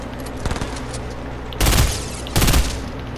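Gunfire in the Fortnite video game: two loud, dense bursts of rapid shots, each lasting about half a second, over steady game background noise, with a fainter shot earlier.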